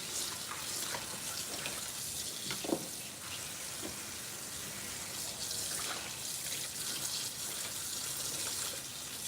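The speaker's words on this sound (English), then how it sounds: "Just washing these in the sink, trying to get them clean, using cold water." Cold tap water runs into a kitchen sink while food is rinsed, a steady close rush of splashing with faint clatters and no talk.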